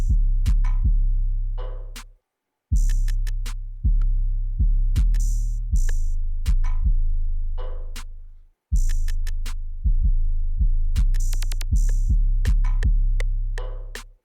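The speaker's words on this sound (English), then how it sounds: "isolate the drums and show you what they sound like" An isolated hip-hop drum pattern with booming 808 kicks, crisp snare or clap hits and ticking hi-hats, loud and alone, stopping briefly twice before restarting.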